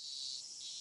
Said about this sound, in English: you just could hear the cicadas crying as well, or the Higurashis, as this translation would say